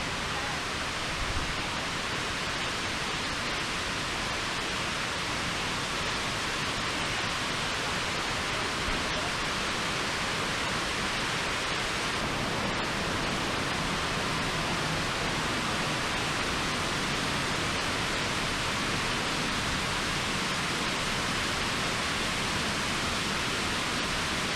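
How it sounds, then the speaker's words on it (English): A waterfall on a windy hiking trail, heard from behind the falling water as a loud, dense, unbroken roar that fills the whole stretch with no pauses and no voices. "So here we are going behind the waterfall."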